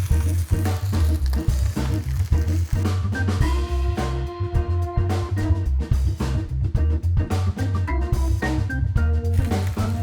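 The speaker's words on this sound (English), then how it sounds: "what you want to hear is that nice sizzle" A pork rack searing in olive oil in a pan for a Christmas roast gives a continuous crackling sizzle with popping bursts, close and loud, and no talking over it.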